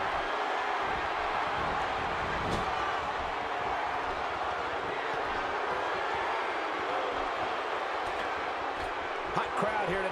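Arena crowd noise in the WWE 2K16 wrestling video game, set in Minneapolis during a SmackDown tag match: a continuous loud roar of cheering that persists for the whole stretch, with faint impacts.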